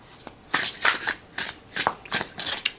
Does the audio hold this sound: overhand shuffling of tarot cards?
yes